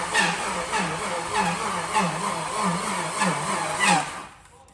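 A car engine with its injectors removed is cranked over by the starter without firing, a rhythmic repeating chug of even compression pulses, moderately close, stopping abruptly near the end.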